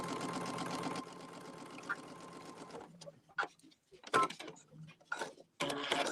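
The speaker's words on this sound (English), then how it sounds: "Okay, I'm sewing again." A home sewing machine runs steadily for about three seconds while stitching quilt blocks, then gives shorter start-stop bursts with pauses between them.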